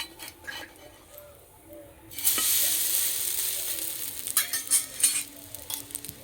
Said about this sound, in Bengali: ভাজতে বেশি সময় লাগে না